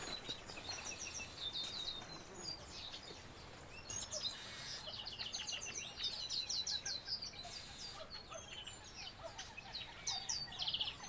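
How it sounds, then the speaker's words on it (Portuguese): Small birds chirp and trill continuously in high, quick phrases over a steady outdoor hiss at lagoons by the São Francisco River, some calls nearer and brighter than others. "Vamos ouvir o passarinho."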